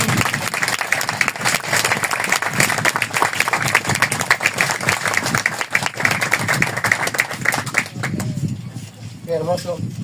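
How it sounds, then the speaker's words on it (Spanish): A church congregation applauding during a worship service, a steady crowd clapping that holds for several seconds before dropping away as a voice begins. "Le damos un aplauso al Espíritu Santo."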